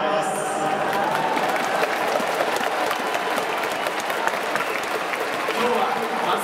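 A large crowd in Nagoya Dome cheers and applauds during a post-game hero interview at a 2019 Chunichi–Hanshin baseball game, a steady, loud roar of clapping throughout.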